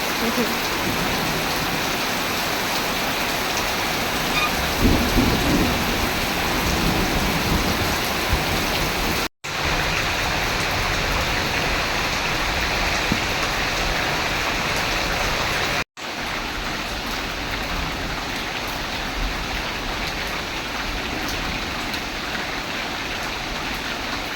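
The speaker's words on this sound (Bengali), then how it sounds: "তুমুল আকারে বৃষ্টি শুরু হয়ে গেছে" Heavy morning downpour over a rural village cooking spot, a dense, steady roar of rain that holds through the whole stretch with no clear thunderclap standing out.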